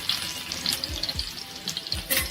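Garlic dropped into hot oil in a pan makes a faint, brief crackling sizzle with scattered pops.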